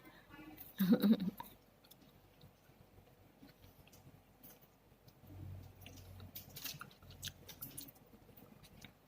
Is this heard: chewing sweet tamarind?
yes